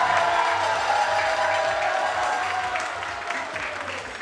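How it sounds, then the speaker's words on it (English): An audience at a Miss Chinese pageant talent show applauds and cheers for a group of contestants, a dense, loud wash of clapping that slowly fades over a few seconds. "Please give them big round applause."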